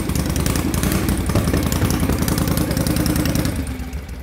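A hot rod engine, freshly built and still needing tuning, runs loud and close with a rough, pulsing mechanical clatter, fading slightly at the end, with no voices.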